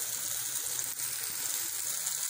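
Chopped tomatoes are added to ginger and garlic sautéed in a pan, giving a steady, soft sizzling hiss throughout with no pauses and no voices.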